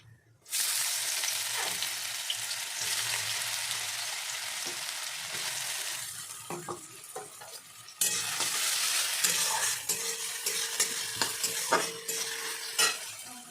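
Mustard seeds and cumin crackle and sizzle in hot oil for poha pulao, a loud, dense frying hiss that briefly dies down and then surges back, with light popping ticks and stirring, no voices.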